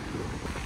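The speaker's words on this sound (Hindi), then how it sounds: "ठंडी ठंडी हवा चल रही ना" Cold wind blowing outdoors near a large waterfall on a mountain motorcycle route in Nepal, heard as a steady, soft broadband rush with no clear gusts.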